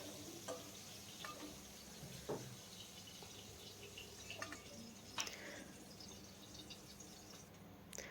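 Flat beans (sim) frying in a pan of oil for a vegetarian Bengali dish, giving a soft, steady sizzle with occasional stirring clinks and scrapes, quiet and close.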